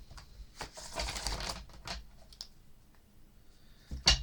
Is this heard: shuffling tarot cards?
yes